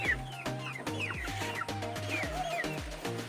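Rhode Island Red free range chickens, about nine or ten weeks old, cluck steadily and close by in repeated short calls, with several birds overlapping and a few higher chirps mixed in.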